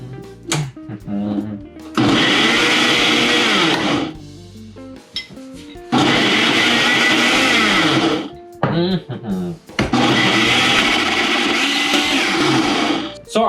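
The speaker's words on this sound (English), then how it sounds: "It's time to blend it." Blender whirring through a thick acai smoothie with nut milk in three long loud bursts of about two seconds each, separated by short pauses filled with clinks and brief handling sounds.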